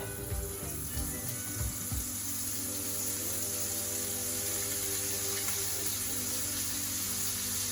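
Falafel balls frying in hot oil give off a steady, dense sizzle that runs throughout, with a few soft low bumps near the start and no voices.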